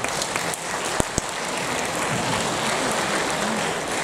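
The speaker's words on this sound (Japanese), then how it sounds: "大きな拍手で迎えてください" Audience applause welcoming a singer on stage at the Happiness Kayosai show in Kuki Sogo Bunka Kaikan, a continuous rain-like patter of many hands with a couple of sharp knocks early on, no talk.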